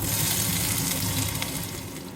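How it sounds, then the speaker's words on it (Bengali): White cumin seeds and ginger sizzle steadily in hot oil in a pan, a continuous loud frying hiss with faint stirring and no talk. "গরম হয়ে গেছে, তো এর মধ্যে আমি দিয়ে দিচ্ছি সাদা জিরে, এতটা দিয়ে দিচ্ছি আদা"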